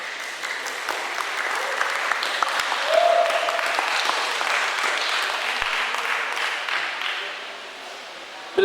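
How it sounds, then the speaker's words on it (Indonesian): A seminar audience in a hall applauds as a speaker is introduced, steady even clapping lasting the whole stretch before tapering off. "Beri tepuk tangan untuk beliau, Bapak Gilang Pradipta."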